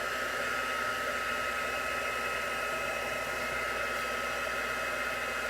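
A heat gun blows steadily for copper embossing powder on a card, a constant close hiss of hot air with no break or change in level.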